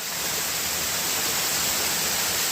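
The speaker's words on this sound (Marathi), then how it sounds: "असा हा पडगा वॉटरफॉल आहे" Padgha waterfall in Palghar during the monsoon, a steady, dense rushing roar of falling water that stays loud and unbroken throughout, with no voices.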